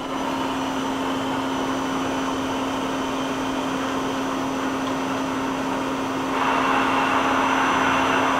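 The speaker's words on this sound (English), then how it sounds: "Now we're going to run the live tool." Daewoo Puma 200LMSA CNC turning center running its live tool at about 500 RPM, a steady mechanical hum with a constant tonal whine that grows slightly louder and brighter near the end, no talk.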